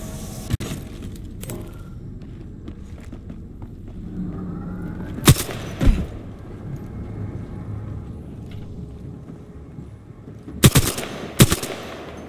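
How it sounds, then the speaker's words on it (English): Gunfire from the Apex Legends video game: sharp automatic bursts and single shots crack out in clusters near the start, middle and end, over a low rumbling game background with no speech. "Getting shot at."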